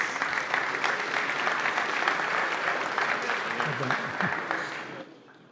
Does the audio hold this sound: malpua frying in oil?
no